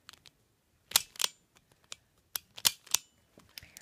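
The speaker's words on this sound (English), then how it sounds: "it also has this clicking mechanism so that I don't overshoot" A speed cube being turned by hand, giving sharp, crisp clicks from its clicking mechanism in irregular clusters of two or three, close and fairly loud against near silence.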